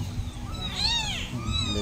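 A thin, high kitten meow rises and falls over a steady background hum, close and fairly clear.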